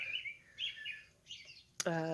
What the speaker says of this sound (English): I'm going to sit here and listen to the birds